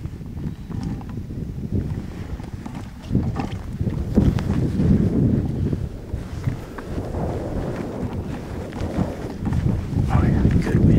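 Wind gusting across an open hillside in Hawaii during a bow hunt for axis deer, a steady low roar that rises and falls as it buffets the microphone, close and fairly loud.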